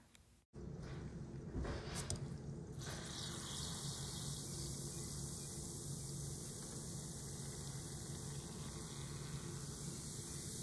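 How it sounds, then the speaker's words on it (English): A homemade bath bomb fizzes in water, a steady soft hiss and bubbling that starts abruptly after a brief splash and carries on evenly without voices. "And now let's see our bath bombs working."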